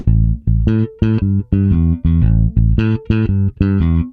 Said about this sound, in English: Here's some classic blues walking bass lines.